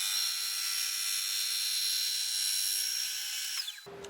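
A metal-cutting tool on a machine with an NT40 spindle takes a 0.1 mm finishing pass along a bent tow-bar part, giving a steady, loud high-pitched whine with whistling overtones that ends abruptly just before four seconds.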